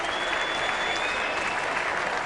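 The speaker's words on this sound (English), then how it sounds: "And that's getting him cheering a bit." A cricket crowd at a ground cheers and applauds steadily, a dense, continuous roar of clapping and voices that stays loud throughout with a faint whistle-like tone running underneath.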